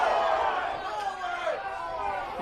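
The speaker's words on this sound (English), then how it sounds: "You can hear the crowd questioning that forward" A rugby crowd at a third-grade grand final murmurs and chatters in a steady, fairly distant hubbub, reacting to a questionable forward pass, with no clear individual voices standing out.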